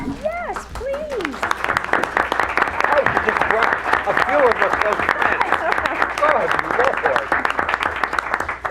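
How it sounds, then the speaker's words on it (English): Audience at a school district board meeting applauding guests who stand, a steady patter of clapping from a mid-sized room mixed with chatter and a few raised voices. "ask everyone to stand up who has accompanied you here today so that we might applaud them as well?"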